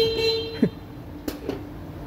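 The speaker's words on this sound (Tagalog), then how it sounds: "Testingin natin yung horn na original niya para malaman natin yung tunog." Stock horn of a Nissan Juke (2011–2017), a thin, fairly weak single-tone beep held for about half a second, then two very brief taps, close by with light background noise.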